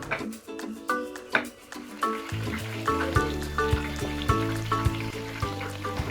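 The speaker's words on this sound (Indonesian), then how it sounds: "Cuci bersih tahu, potong-potong sesuai selera, kemudian goreng setengah garing." Tofu pieces frying half-crisp in hot oil for a Balinese-spiced egg dish: a steady, close sizzle with crackling pops, while tonal background music plays throughout.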